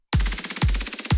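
A building electronic snare roll in a remix, its pitch raised by channel pitch adjustment, rattles rapidly between two booming kick hits in a short, dense, unaccompanied burst.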